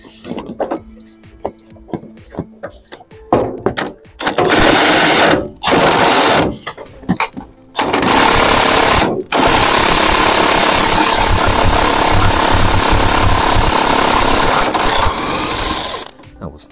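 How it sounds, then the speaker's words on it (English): Power tool running on a rusty Ford Transit Connect during a cambelt, timing belt and water pump change, loud sustained whirring bursts of several seconds separated by brief pauses, with talk between runs. "Why do you need to use manual tools if you've got power tools?"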